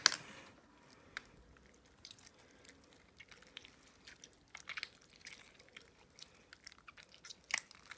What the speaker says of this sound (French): ça dit de venir le mélanger à la main